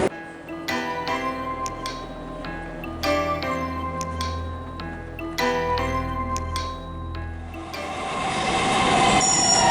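A train sits at a station near Saint Petersburg in Russia. Rhythmic metallic clicks and tones repeat over a low rumble, then a rising hiss and screech of rail noise swells near the end.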